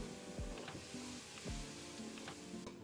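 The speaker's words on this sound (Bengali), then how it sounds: "চিকেন লেগে যাচ্ছে, হালকা করে জল দিয়ে দেবো, এগুলো এখন ভালো করে নাড়িয়ে নেবো" Chicken with spices and a splash of water sizzles in a pan while a spoon scrapes and stirs it, giving a few distinct scraping strokes over a quiet steady frying hiss.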